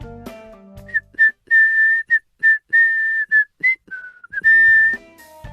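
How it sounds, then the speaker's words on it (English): A person whistles the tune of Jingle Bells, clear and close, a series of bright sustained notes and short phrases, opened by brief speech-like sounds. "He started whistling Jingle Bells"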